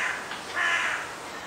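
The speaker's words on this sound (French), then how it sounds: "accueilli par les cris stridents du corbeau" A crow caws shrilly, one drawn-out harsh call swelling in the middle and fading away against a soft, hushed ambient background.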